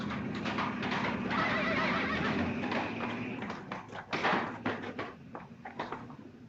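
A man imitates a horse, with repeated neighing and whinnying cries, plus a few knocks and clatter that could be hoofbeats, close and fairly loud under a faint room tone.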